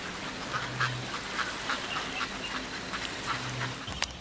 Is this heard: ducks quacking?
yes